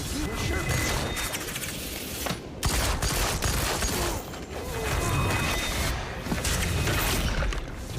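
Gunfire rattles in the Deadpool VR video game, dense and loud bursts of shots with crashing impacts, running almost continuously with only brief dips in the barrage.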